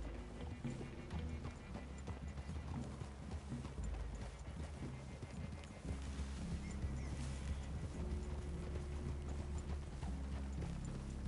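Steady clip-clop of horse hooves at a walking pace in the video game Red Dead Redemption 2, close and continuous over a low rumbling ambient bed.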